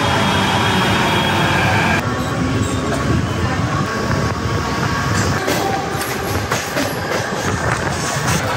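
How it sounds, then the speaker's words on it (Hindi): A Mumbai metro train runs steadily and loudly, its broadband rumble and rattling wheels filling the whole stretch without a break, close and constant. "सो गाइस अभी मेट्रो आने वाली है"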